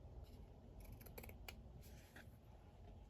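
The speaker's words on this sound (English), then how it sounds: "Now I will just trim this little edge off" Scissors trim a small paper edge during ephemera crafting. A few quiet, close snips cluster in the middle of an otherwise soft background.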